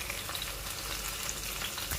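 Okra frying in a pan with turmeric and spices, a steady close sizzle and crackle throughout with no voices.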